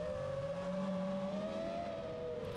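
Front-wheel-drive Nacional 1600 rallycross race cars, including a blue Peugeot, roar steadily at a distance in a Macau race, engine notes held high and slowly shifting pitch without pause.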